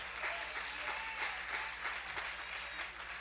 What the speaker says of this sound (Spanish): Dele palmas de alabanza, hermanos.